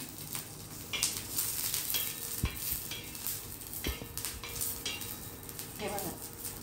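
Green chillies fry in a little oil in a pan, giving a soft crackling sizzle broken by sharp clinks and scrapes of a utensil against the metal, with a faint voice briefly in the background.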